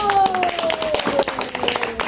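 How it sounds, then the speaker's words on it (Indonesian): A short burst of clapping rings out at the close of a children's story, with sharp hand claps layered under a speaking voice. "Tepuk tangan dulu."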